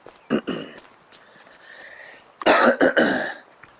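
A person with a sore throat coughs twice, pauses, then gives a louder burst of coughs and throat clearing close to the microphone.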